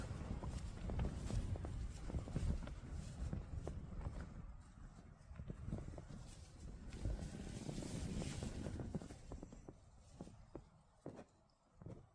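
Wind gusts outside a parked van, buffeting the microphone with low rumbling bursts, joined by scattered thumps and scuffing steps that rise and fall over several seconds before trailing off into a few sharp knocks.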